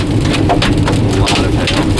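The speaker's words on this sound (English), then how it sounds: "We've had a lot of hail today." Baseball-sized hail from a supercell storm in Woodward, Oklahoma, pounding down in a loud, dense clatter of irregular impacts with a low rumble underneath.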